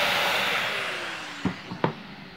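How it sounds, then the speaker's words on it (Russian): A stationary vacuum cleaner running on the cyclone of a Dyson DC37, a loud steady whooshing drone that slowly fades, followed by a few short knocks and clunks near the end. "Поэтому надо вот так вот взять стационарным пылесосом, ну или чем-нибудь, чтобы не разбирать все."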